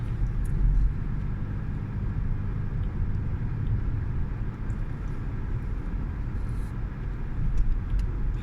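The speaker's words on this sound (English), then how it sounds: "We're behind a truck now, though, so the trucks drive a little bit slower." A car travels along a road in Italy between Brugnera and Roveredo behind a slower truck, giving a steady, loud low engine and road rumble that holds continuously with no talk.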